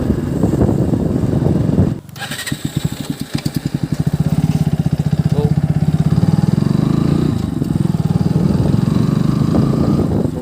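A motorcycle engine putters and revs during a ride on a rural route, with rapid pulsing firing beats swelling into a steady mid-pitched drone up close, partly under talking voices.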